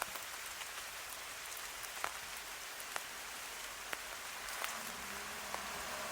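Steady rain falls in the forest of Khao Yai, a soft, even patter with occasional louder drips striking nearby surfaces. It is faint and continuous, with no voices.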